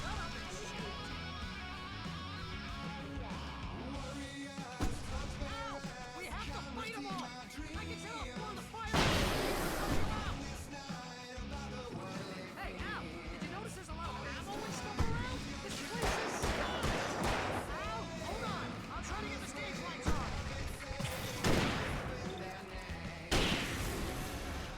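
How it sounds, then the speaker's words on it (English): Fireworks bursting at the stage in the video game Alan Wake, with repeated heavy booms and crackling bursts over a dense game soundtrack, while a player talks throughout. "now we're having fireworks"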